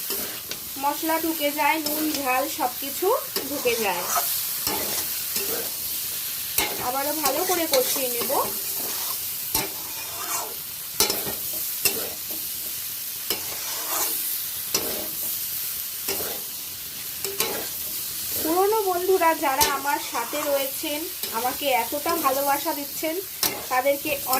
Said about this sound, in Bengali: এবার আমি ভেজে রাখা ফুলকপিগুলো অ্যাড করে দেব দিয়ে আবারও ভালো করে নেড়ে চেড়ে কষিয়ে নেব